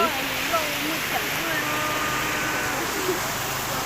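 High water rushes steadily over a waterfall, a loud, constant broadband roar close by. Faint voices are in the background.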